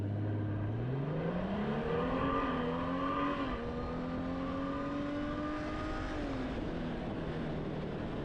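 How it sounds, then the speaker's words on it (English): A Honda Goldwing GL1800 motorcycle in automatic first gear, sport mode, accelerates hard, its engine note climbing steadily in pitch before a brief dip and a sustained loud, close pull. "now we're in first gear in automatic in sport mode."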